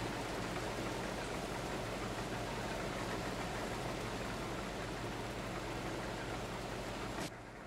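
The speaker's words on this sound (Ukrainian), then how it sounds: "Двигун занадто простецький якийсь" A tractor engine idles in Farming Simulator 22, a steady low drone with a rough, even rumble that runs alone for several seconds before cutting off abruptly near the end.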